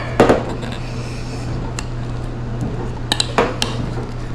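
A fork clinks against a dish a few times while a stick of butter is pressed and mashed, with a steady low hum underneath.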